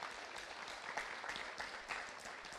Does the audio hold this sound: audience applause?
yes